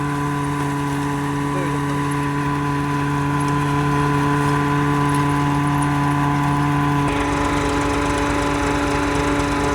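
A tractor-driven groundnut threshing machine runs at a peanut station, giving a loud, steady engine drone with a droning tonal hum that shifts slightly in pitch near the end.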